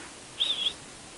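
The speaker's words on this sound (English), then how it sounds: "Sounds like somebody whistling to a dog." A faint, distant whistle drifts across a quiet wooded hiking trail in Watertown, New York: a single short two-part high-pitched call standing alone against a soft background hush.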